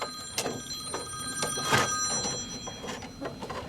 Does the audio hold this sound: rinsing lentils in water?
no